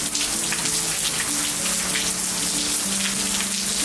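Steady rain falls outdoors ahead of Hurricane Milton, a dense, even hiss of drops hitting surfaces that fills the clip without pause, with no voices over it.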